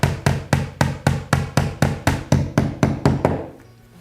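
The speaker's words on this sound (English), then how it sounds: "That's why I tend to hold the hammer a little bit close to the end. Just give it a gentle tap." A hammer gently tapping a nail into a wall, a dozen evenly spaced sharp knocks at a steady rhythm, close and clear, then quiet.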